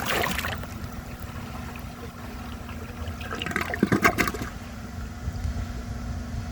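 A 1948 Crane Drexel toilet with a clogged bowl flushes close by: a rushing surge of water gives way to gurgling and swirling as the tank refills.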